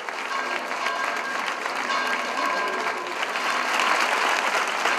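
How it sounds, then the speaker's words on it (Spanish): A large crowd gathered in Almonte bursts into sustained, loud applause after a minute of silence, a thick, even wash of many hands clapping continuously without letup. "se ha guardado un respetuoso minuto de silencio que solamente se ha roto con un gran aplauso"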